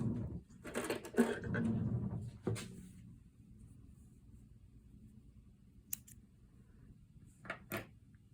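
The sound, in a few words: scissors cutting yarn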